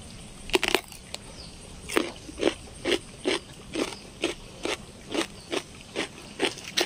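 Crisp, repeated crunching bites into a ripe cucumber fruit, about a dozen sharp close crunches in a steady chewing rhythm, with no talking.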